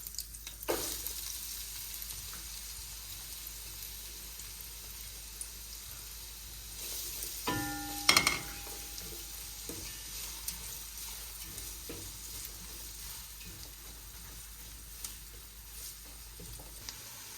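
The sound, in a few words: onion and garlic frying in oil and butter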